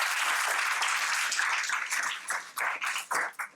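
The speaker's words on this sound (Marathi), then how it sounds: "एकदा त्यांच्यासाठी परत जोरदार टाळ्या." Applause from a seminar audience honoring two army colonels, dense and steady at first, then breaking into scattered, separate claps that fade out toward the end.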